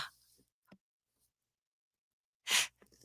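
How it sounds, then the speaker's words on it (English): A single sharp sneeze bursts out close and loud after a few seconds of near silence, preceded only by faint breaths and small sounds. "I'm going to sneeze. I have a sneeze coming."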